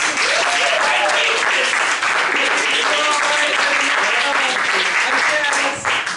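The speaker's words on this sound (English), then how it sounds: "please clap just as loud for JJ with 50 points." Audience applause for a winner at a parlor games event, loud sustained clapping with voices audible beneath it before it tapers off near the end.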